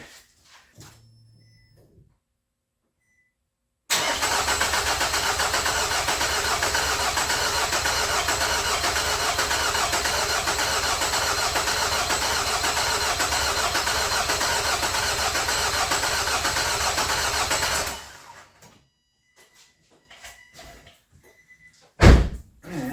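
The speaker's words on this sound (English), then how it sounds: "Let's crank this thing a little bit and build some oil pressure." A 2005 Nissan Altima engine cranking over with its fuel injectors unplugged, a loud, steady starter churn running unbroken for about fourteen seconds before stopping abruptly, followed by faint clicks and a sharp thump.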